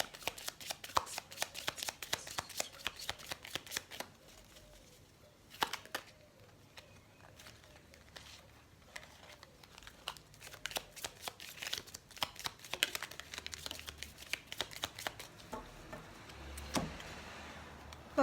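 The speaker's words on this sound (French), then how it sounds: "Alors on va tirer la carte synthèse" Tarot cards are shuffled by hand before one is drawn: bursts of crisp riffling and soft flicking, close and quiet, spread across nearly twenty seconds with short pauses between runs, and no talk.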